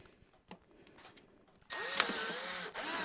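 A cordless power drill bores a second hole through a plastic crate for a DIY kayak fishing setup: quiet handling clicks at first, then a loud steady whir starts and runs for about a second before cutting off.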